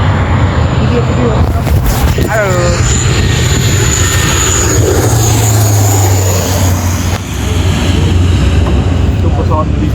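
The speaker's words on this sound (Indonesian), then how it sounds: "Itu pesawat militer, saudaraku." A military aircraft passes overhead as a broad engine roar across the whole stretch, steady and loud, with wind buffeting the microphone and people talking nearby.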